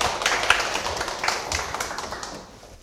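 A small seminar audience claps briefly at a university admissions strategy briefing, a light scattering of close hand claps that thins and fades within a few seconds.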